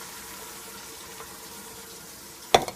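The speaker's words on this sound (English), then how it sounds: "What I'm going to do is add some water to the meat" Cold water poured into a hot pan of ground meat while cooking shepherd's pie gives a brief, sharp sizzling splash at the very end, following a near-silent stretch of low kitchen hum.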